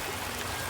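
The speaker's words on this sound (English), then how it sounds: "So it's a small river," Water flowing in Clear Creek, a small river, a steady close-up rush and babble with no breaks, heard on its own for a brief moment.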